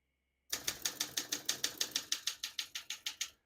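Rapid, even keystrokes from a 1965 Olympia SM9 portable manual typewriter, about sixteen crisp clacks in steady rhythm, close and clear with nothing else heard.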